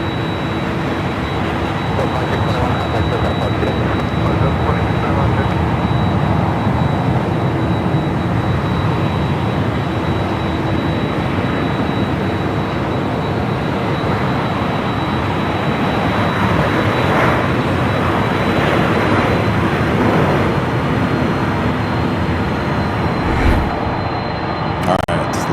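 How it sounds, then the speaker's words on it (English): A United Airlines Boeing 737 MAX 9 jet landing at Los Angeles International Airport, heard as a loud, continuous broadband engine roar that holds steady throughout. "United Airlines Flight 360 coming in from Boston, a 737 MAX 9."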